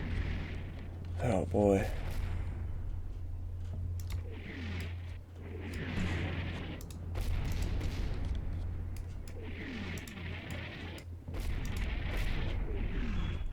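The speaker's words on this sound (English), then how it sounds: "it's definitely rockets. There's no way that's mortars." Rocket artillery strikes in the war game Combat Mission Red Thunder boom and rumble repeatedly over a low steady drone, with bursts of crackling impacts, while someone talks over them.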